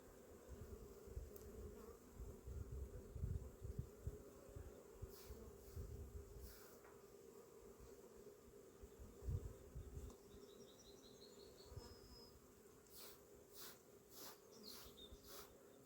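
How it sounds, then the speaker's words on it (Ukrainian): A steady, dense hum of many bees buzzing close by, with a low rumbling layer underneath and a few brief higher chirps near the end. "Бачите, бджоли дуже багато."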